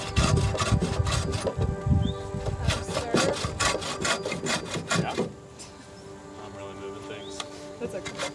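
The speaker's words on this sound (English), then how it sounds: "gonna cut off the waist for the tenon through here" Hand saw cutting through timber to form a tenon for an off-grid timber-framed shed, with repeated rasping back-and-forth strokes that are loud at first and ease off partway through, with some talk mixed in.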